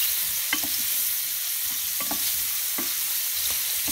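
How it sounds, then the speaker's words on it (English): Mushrooms sautéing in oil with light soy sauce, a steady close sizzle with several distinct stirring clatters of a utensil against the pan spread across the moments, no talking. "So just toast the mushroom to coat the mushroom with the oil"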